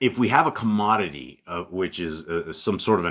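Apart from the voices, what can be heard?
No distinct noise like a dog, phone or traffic.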